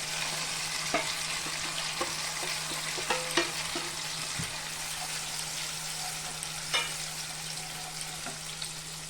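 A spice paste of cumin seeds, tomato, ginger and chilli fries in hot oil, giving a close, steady sizzle broken by scattered clicks and scrapes of stirring, with a low constant hum underneath.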